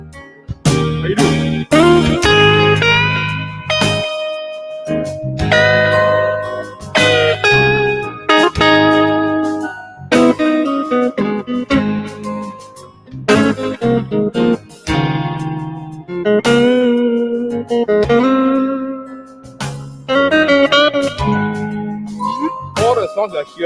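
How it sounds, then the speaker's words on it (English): Electric guitar plugged straight into a Korg PA1000 arranger keyboard, played at home through a mixer: a steady run of loud, distorted, effects-heavy notes and chords with short pauses between phrases. "All the sounds you're hearing is just guitar straight to keyboard, audio out into our mixer."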